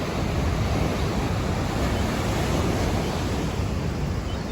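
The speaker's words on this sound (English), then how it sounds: "Look at those waves out there." Ocean waves crashing on a rocky beach, a dense, loud, unbroken roar of surf buffeted by wind, with no voices.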